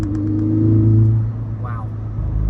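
A P3 Cheap R car accelerating hard, its engine note climbing in a loud rising rumble and then dropping back, with a person talking briefly over it from inside the cabin.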